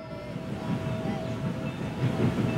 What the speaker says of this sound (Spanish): el silbato de las locomotoras. Los convoyes que iban y venían.